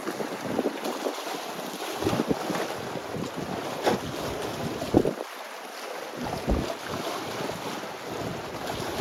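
Strong gusting wind roars across a seaside beach in Yalta during a cyclone with snow, buffeting the microphone in rolling surges alongside the wash of heavy surf, loud and continuous with no talking.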